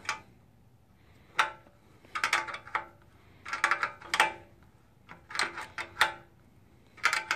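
An open-end wrench tightens a bolt on a GY6 scooter's rear rack and top case support, giving clusters of short, sharp metallic clicks and ticks in repeated bursts with quiet gaps between them. No voices are heard.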